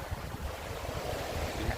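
A steady, close wind roars and buffets the microphone on the seaside at Khao Laem Ya, and soft surf may be mixed into the broadband rush. No one speaks.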